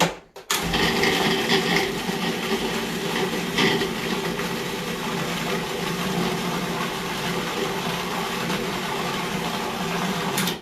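A loud electric grinder whirs continuously after a sharp start, churning pork wonton filling into a fine paste with a steady mechanical drone that holds for about ten seconds before cutting off.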